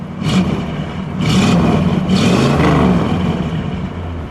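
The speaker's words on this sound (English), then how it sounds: "Go ahead, give it a rev." A 1968 Plymouth Sport Fury's engine gets revved loud and close in the open, three quick throttle blips rising over a rumbling idle and then settling back down.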